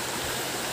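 River water rushing steadily past, a continuous close broadband wash of flowing water with no pauses.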